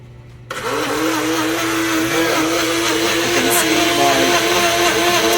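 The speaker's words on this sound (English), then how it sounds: "I start the blender" A blender starts up abruptly and runs steadily at high speed, a loud continuous whirring motor drone that holds without pause.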